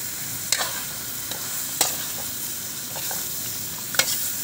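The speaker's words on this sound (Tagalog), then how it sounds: "Halo na po yung mga sangkap." A ladle stirs talakitok fish sinigang with green mango in a pot, giving sharp scattered clinks and scrapes against a steady bubbling simmer.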